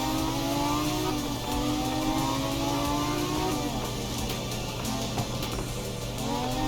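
Il Cavallo 803, a 1974 Group 3 rear-engined rally car in the game Art of Rally, driven hard with a steady loud engine drone whose pitch climbs and drops through gear changes, close and continuous with no talking.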